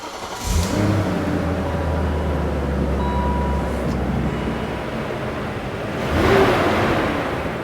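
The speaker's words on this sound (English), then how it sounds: "I'm gonna fire up the engine and let the engine do some drying as well" A V8 in a manual BMW E39 cranks and fires up, settling into a low, steady idle, close and moderately loud, with a swelling rev or passing noise near the end.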